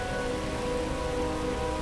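Steady rain in the game Starfield pours down evenly as a dense, constant hiss of drops on surfaces, unbroken and without voices.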